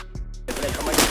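A short, loud burst of rapid gunfire from a first-person shooter match in Warface rings out close after a quiet moment, dense and sustained through the rest of the clip.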